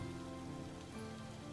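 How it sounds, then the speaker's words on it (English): Steady rain patters on surfaces in the survival video game Vintage Story, a dense, even hiss with no talk over it. "It is raining."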